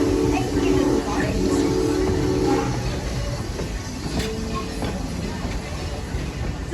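The Serengeti Express train at Busch Gardens rolls along its rails with a continuous rumbling clatter and faint clicks, a tonal squeal early on, while a narrator speaks over it.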